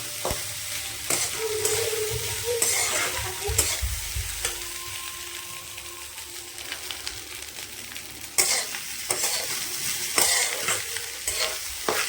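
Spoon stirs and scrapes through leftover soaked rice with egg in a hot pan, repeated scraping strokes over a soft continuous sizzle, close and moderately loud.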